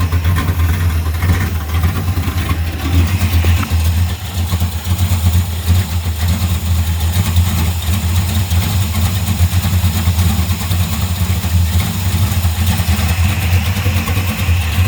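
A hot rod engine idling steadily on low fuel, its deep rumble loud and close throughout with an even, unbroken pulse and no talk.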